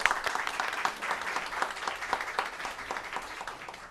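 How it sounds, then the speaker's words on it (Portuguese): An audience bursts into applause for a guest invited to the table at a law event: sustained, dense clapping from a crowd, fairly quiet and slowly fading toward the end. "Palmas para ele, pessoal."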